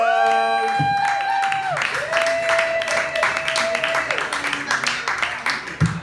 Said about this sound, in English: So big round of applause for Sean